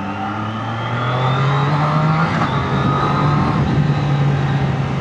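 A Triumph-style Daytona 660 sport bike engine drones steadily on a test ride, the rising whine of its revs climbing slowly, loud and close with constant wind-rushed roar and no talk.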